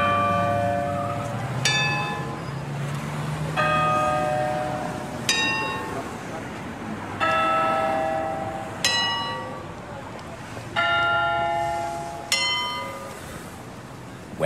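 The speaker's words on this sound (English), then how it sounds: "Big Ben is ringing." Big Ben's bell rings in the Peppa Pig World Adventures video game in London, a series of about eight clear, resonant chimes at steady intervals, each ringing out and decaying before the next strike.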